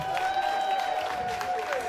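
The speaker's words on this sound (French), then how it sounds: "Ils applaudissent encore." A crowd applauding at a funeral celebration in Cameroon, a soft, continuous patter of clapping with a steady tonal whine over it and voices mixed in.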